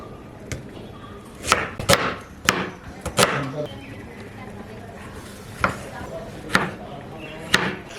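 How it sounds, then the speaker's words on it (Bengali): Knife chopping onion and tomato on a board, a few sparse, sharp taps spaced irregularly over low background noise. "ততক্ষণ আমরা পেঁয়াজ আর টমেটোটা কাটতে নেব।"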